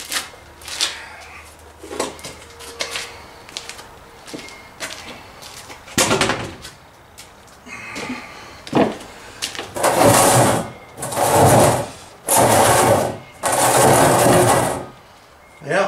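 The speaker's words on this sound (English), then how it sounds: "we're going to cut straight down so we can open that bad boy up." A plastic barrel is cut straight down with a power tool, heard as several loud, buzzing bursts of cutting separated by short pauses, the later runs longer and harsher, with scattered handling noises and someone speaking between them.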